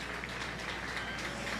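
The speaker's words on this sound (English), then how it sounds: "let's go ahead and give all of our key exhibitors out here a" An audience at a 4-H beef show claps for the exhibitors, a soft, steady wash of applause heard from a distance in a large space.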